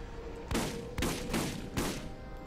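Automatic gunfire in the Borderlands video game, four loud bursts of shots about half a second apart, each striking hard and then fading.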